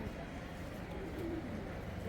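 Prize-winning racing pigeons in a loft give soft, low coos, faint and close against a dull, steady background hum.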